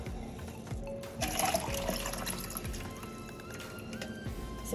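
Water is poured into a Disney Cinderella musical snow globe holding glitter, a short splashing, gurgling fill with small drips, close and fairly quiet.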